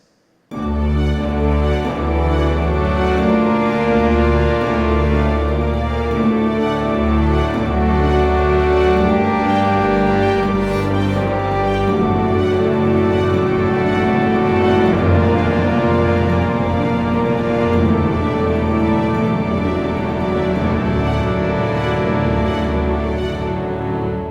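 A sustained orchestral theme from Star Wars Rebels plays loudly and continuously, with rich low strings and layered harmonies unfolding slowly without any talking.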